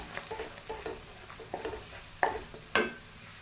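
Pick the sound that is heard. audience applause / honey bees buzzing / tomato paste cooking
tomato paste cooking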